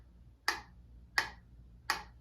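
A metronome clicking at 88 BPM, three sharp isolated ticks evenly spaced about 0.7 seconds apart, crisp and close against near silence.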